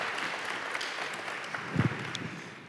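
A studio audience claps on a talk show, a dense, even wash of applause that holds steady for a few seconds and then begins to thin.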